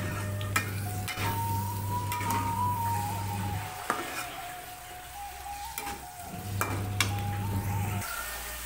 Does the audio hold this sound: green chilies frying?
yes